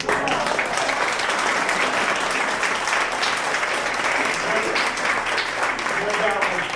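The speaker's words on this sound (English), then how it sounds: "We'll clap again." Audience applause fills a dinner gathering, steady and dense throughout, with some voices mixed into the clapping.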